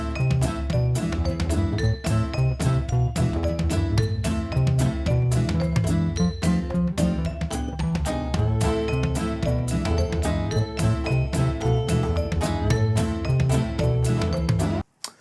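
Royalty-free theme music by Kevin MacLeod plays on its own: a bright, busy tune with clinking, bell-like percussive notes over steady bass, cutting off abruptly at the end.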